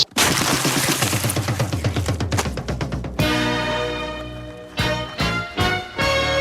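A rabbit bursting in the 2010 film Rubber, rendered as a loud sound effect: a dense burst of wet, rapid crackling pops followed by several sharp splattering impacts that trail off, with no voices.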